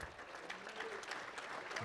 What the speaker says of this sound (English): Another round of applause for Henry Tillman for a great story.